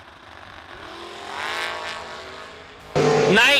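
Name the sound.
drag race cars launching down the strip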